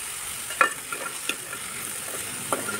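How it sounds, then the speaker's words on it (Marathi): Soya chunks and vegetables sautéing in a pan give a soft, steady sizzle with a few sharp scrapes and clinks of a spatula, close but quiet, with no talking. "चांगलं परतून घ्यायचं आहे"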